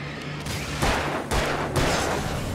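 Alan Wake gunfire comes as three heavy shots spaced roughly half a second apart, loud and close against a steady background hum.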